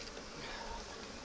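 Honeybees buzz inside an open hive as it is inspected. The hum is faint, steady and dense over a brief moment, with a low murmur beneath it.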